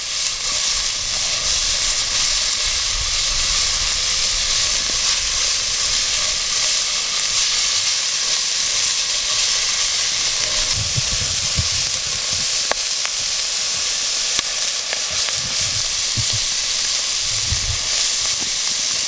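Salt pork or bacon strips browning in a pan at an outdoor trail camp in snow, a loud, dense, continuous sizzle and crackle that holds steady throughout, with a low rumble underneath.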